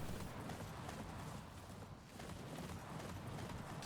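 Steady clip-clop of horse hooves trotting at an even pace in the video game Attack on Titan 2, quiet and fairly close, with no talking.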